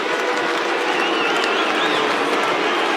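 Loud, sustained crowd noise from a football stadium at an AFL match between St Kilda and Port Adelaide, a dense roar of jeering and booing that holds steady throughout.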